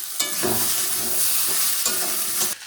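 Potatoes and spices fry loudly in a pan, a bright crackling sizzle broken by a few scraping stirs, close and continuous.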